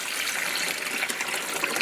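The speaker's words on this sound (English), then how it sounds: "I'm going to go in with enough water to reach the" Water gushes steadily into the reservoir of a portable countertop ice maker, a close, continuous pouring splash with no pauses.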